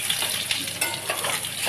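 Potatoes with spices for an egg curry sizzling and being stirred in a hot pan, a continuous bright hiss with soft scraping bursts, close up and alone with no talk.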